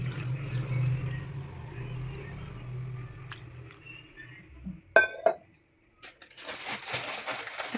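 Pieces of cut tender jackfruit go into a pan with some water, a few sharp clinks and knocks of metal and vegetable against the pan amid quiet kitchen background, then a soft rush of poured water.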